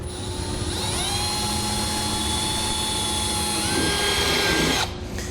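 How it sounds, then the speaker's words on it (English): A small drill bit bores a pilot hole into the bed of a 2013 Ram 2500 truck, giving a steady, loud, high whine that rises slightly in pitch and cuts off sharply after about five seconds. "I'm going to drill a pilot hole."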